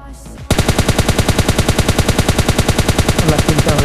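Sustained automatic gunfire in PUBG Mobile Lite, a rapid, steady burst of loud evenly spaced shots that starts abruptly after a brief quieter moment and runs continuously to the end.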